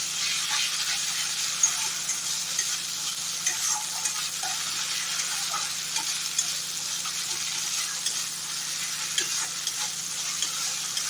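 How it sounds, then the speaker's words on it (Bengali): Spices are stirred into hot oil in a pan for a mughlai paratha with potato curry, giving a steady close sizzle and hiss with soft scraping stir strokes throughout and no voices. "আমি এই মশলাটা ভালো করে তেলের মধ্যে মিশিয়ে নেবো"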